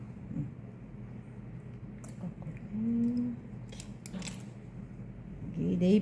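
A stylist's scissors snip hair at the nape during a right-angle-distribution haircut, giving a few crisp, close snips scattered over soft background room noise.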